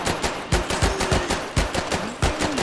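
An MG42 machine gun in the video game Medal of Honor Airborne fires a rapid rattling stream of close, loud shots, with no talking over it.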